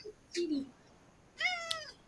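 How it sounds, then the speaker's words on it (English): A house cat meows twice close by, a short low mew followed by a higher, longer meow, clear over a faint background hum. "Chat is in love with the cat."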